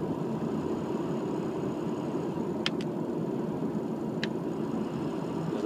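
Ford 6.0 Powerstroke diesel in a pickup coasting after the throttle is released from a light cruise, a steady low engine and road rumble with brief faint clicks partway through.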